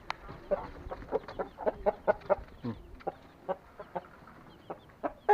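Chickens cluck in short, repeated bursts nearby, mixed with thin peeping from chicks, an uneven busy chatter.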